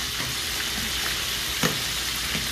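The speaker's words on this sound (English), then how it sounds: "I'm going to give these another quick stir." Orange chicken pieces frying in a pan, a dense continuous sizzle with a couple of soft stirring scrapes, close and loud, with no voices.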